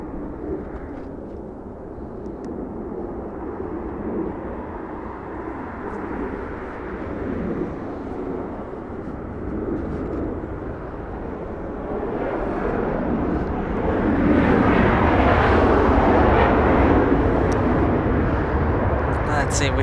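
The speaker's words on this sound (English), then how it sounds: "Southwest Airlines, this one flies in from Reno, Nevada." A Southwest Airlines jet, Flight 1773 in from Reno, Nevada, rumbles at Los Angeles International Airport, its broad roar building louder toward the end, with a voice talking over it throughout.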